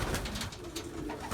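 Racing pigeons coo steadily in a loft, a close, continuous murmur of soft rolling calls overlapping one another with no one talking.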